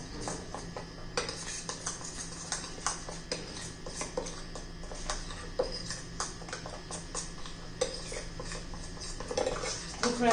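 A spoon stirring a mixture of water, salt, ajwain and cumin in a pot, making frequent light metallic clinks and scrapes in an uneven, busy rhythm over a faint steady background.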